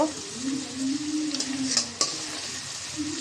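Onion frying lightly in a pan without extra oil, a steady low sizzle with occasional stirring scrapes and a sharp clink near the middle, close and continuous, without talk.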